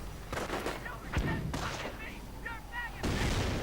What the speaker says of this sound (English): mortars are firing away now. Granatenwerfer 34.